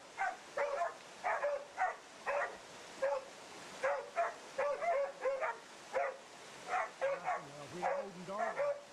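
Hunting dogs bark repeatedly at a wild boar they hold at bay, sharp rhythmic barks in quick bursts at close to mid distance, with a voice briefly heard near the end.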